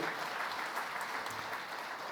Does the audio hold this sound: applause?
yes